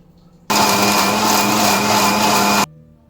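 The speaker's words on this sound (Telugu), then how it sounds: "ఇది దాల్చిన చెక్క, 2 ఇలాచి అండ్ లవంగం ఇది వేసుకొని మిక్సీ పట్టేసుకుంటున్నాను" A mixer grinder whirs loudly, grinding cinnamon, cardamom and cloves into paste, starting abruptly and running steadily for about two seconds before stopping.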